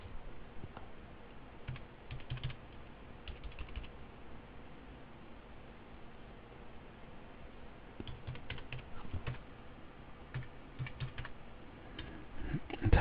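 A computer keyboard is typed on steadily as answers are entered into an accounting exercise on financial statements. Quiet continuous key clicks come in short bursts with brief pauses, and no one speaks.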